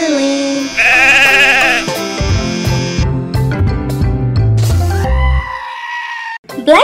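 Bleating sheep sounds in a children's nursery rhyme action song, a few wavering, loud baas up close, woven into bouncy music with bass notes and a short pause near the end.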